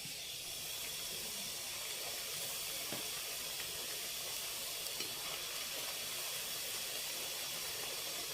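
Rice-flour chakkalu dumplings sizzle in hot oil, a steady close hiss of frying that holds evenly throughout with no talk over it.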